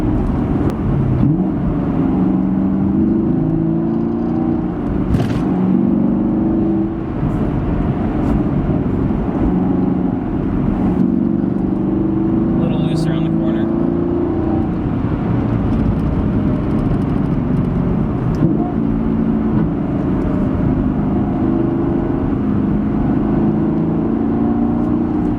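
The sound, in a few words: sports car engine revving while downshifting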